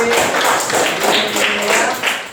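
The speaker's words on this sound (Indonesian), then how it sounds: "Adit masih mimpin, tepuk tangan untuk Adit" Students in a classroom clap for a classmate, Adit, after a points tally in a quiz game, a steady patter of fairly loud handclaps that holds for a couple of seconds with no talk over it.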